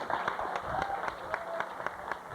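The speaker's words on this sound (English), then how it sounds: "Let's give a nice round of applause." Scattered, fairly faint clapping from an audience at a county fair livestock calf show, individual claps audible as sparse taps over background murmur.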